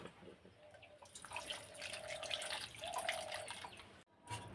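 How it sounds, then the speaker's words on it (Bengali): Starfruit is washed under running water in a quiet kitchen, where a faint trickle and splashing come in two short pours, ending with a brief clatter. "জল দিয়ে ভালো করে ধুয়ে নেব"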